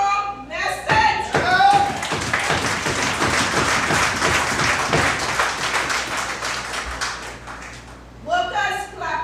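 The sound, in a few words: workers clapping at union meeting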